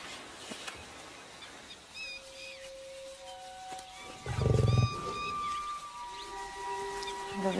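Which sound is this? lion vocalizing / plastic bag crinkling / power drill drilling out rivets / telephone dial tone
lion vocalizing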